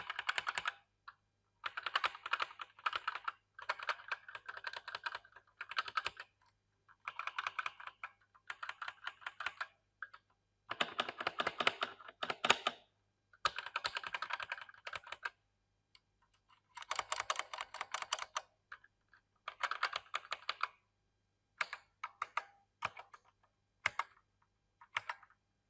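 A MAGEGEE MKSTAR 75 mechanical keyboard is typed on steadily in close, clicky bursts separated by short pauses, with no voices.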